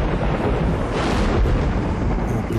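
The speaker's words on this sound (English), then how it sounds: "violent thunderstorms," Thunder in a violent thunderstorm at sea, a deep continuous rumble with a swelling roll partway through, mixed with storm noise.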